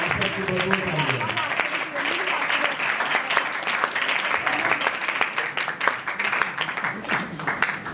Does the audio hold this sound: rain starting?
no